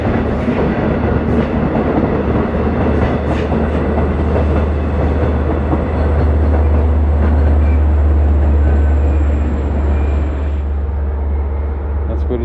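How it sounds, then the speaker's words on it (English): A train rumbles past close by, steady and loud, with a deep low drone and clattering wheels throughout. "Here comes a train"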